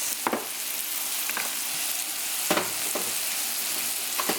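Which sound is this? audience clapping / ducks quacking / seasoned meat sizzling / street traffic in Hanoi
seasoned meat sizzling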